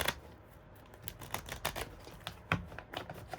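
A badly worn, beat-up deck of cards being shuffled by hand, with quiet riffling clicks and soft bursts of card noise in irregular flurries, close and faint, with no talking.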